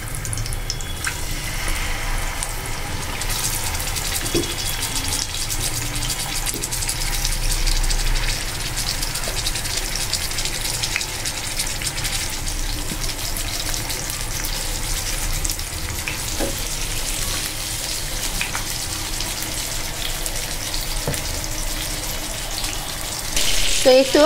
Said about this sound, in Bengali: মাছটা হলুদ আর মরিচ দিয়ে মাখিয়ে মাছটা ভেজে নিচ্ছি